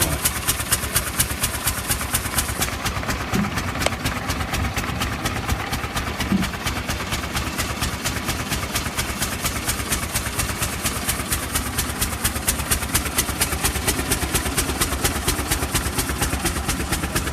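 A 1909 Buick Model S two-cylinder car engine idles steadily at an outdoor event, its loud, even chugging pulse continuing without a break at close range.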